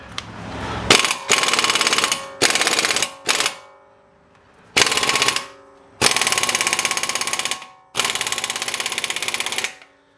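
A large impact gun breaks loose the CV shaft nut on a 2013 Dodge Dart front hub, firing in several loud, close bursts of hammering rattle lasting one to two seconds each, separated by short pauses.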